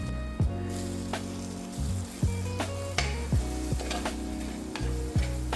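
Chili powder and coriander powder sizzle in hot oil for a chicken curry, a loud steady frying hiss broken by repeated sharp scrapes and clanks of a spoon stirring the pan.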